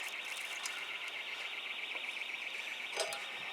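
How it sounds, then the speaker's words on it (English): A car alarm sounds nearby as a steady, high, warbling electronic tone that continues throughout, with a brief clatter near the end; the level stays even. "Someone's alarm going off."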